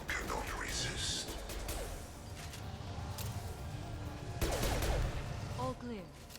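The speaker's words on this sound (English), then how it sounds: "Firing an impact shot." Sniper rifle impact shots and gunfire in Mass Effect 2, sharp bursts amid a continuous combat din with scattered game voices, getting louder near the end.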